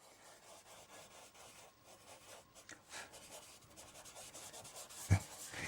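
Pastel being rubbed into a drawing by hand, a soft rhythmic scrubbing close and quiet with steady back-and-forth strokes and one brief knock near the end.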